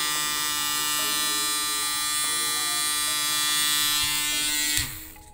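A steady buzz from a Monster Clippers electric shaver runs continuously, loud and close, with its motor tone shifting slightly before it cuts off abruptly near the end.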